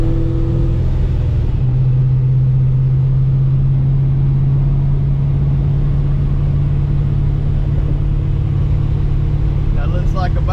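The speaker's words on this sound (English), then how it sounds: "So let's go for a test drive" A car engine on a test drive holds a steady mid-range hum and road rumble throughout, loud and continuous, with a faint rattle near the end.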